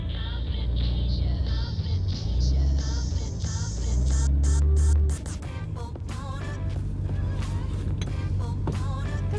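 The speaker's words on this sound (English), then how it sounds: "let's take this 1965 S-Type for a spin" A 1965 Jaguar S-Type 3.8 Litre on the move, its engine humming and revving steadily with a change in pitch midway, road and wind noise heard from inside the cabin, with no talking.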